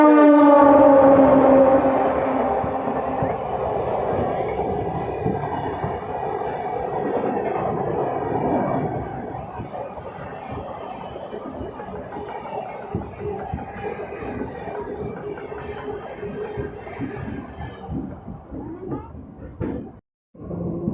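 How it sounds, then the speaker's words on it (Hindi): An Etawah–Tundla MEMU local train arrives at Shikohabad Junction, opening with a loud horn blast before settling into a long rumbling, clattering roll that gradually slows, with voices murmuring underneath. "55 किलोमीटर दूरी तय करके अपनी ट्रेन फाइनली पहुंच चुकी है शुकाबाद जंक्शन पे"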